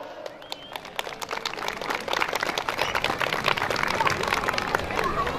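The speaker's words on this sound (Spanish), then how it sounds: "Sí, señor, el aplauso." Applause at a rodeo event during a town fair in Zapotitlán Palmas, a crowd clapping that swells steadily and continues to the end, heard from within the audience amid background chatter.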